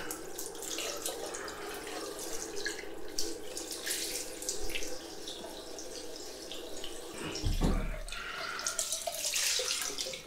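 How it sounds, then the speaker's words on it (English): Cold tap water runs steadily and splashes loudly into a sink while a freshly shaved head is rinsed, a continuous close hiss with no talking. "Just going to use cold water on my head."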